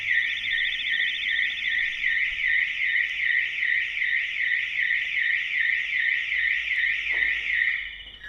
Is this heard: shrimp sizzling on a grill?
no